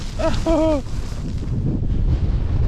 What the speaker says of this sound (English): Well, I'm out of the tent, but it's seriously windy